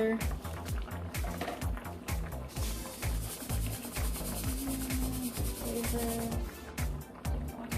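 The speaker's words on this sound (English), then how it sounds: "I don't want the noodle in there, so I'm gonna grate" Noodles being grated for Jamaican steam fish, a continuous rough rasping scrape in quick repeated strokes, close up, with faint background sound and no clear speech over it.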